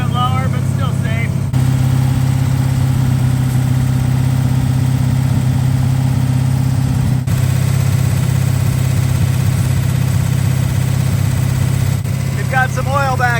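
A rebuilt 426 Hemi engine idles steadily at about 1850 RPM during break-in, a loud, constant low rumble with a mid-range drone that holds unbroken throughout.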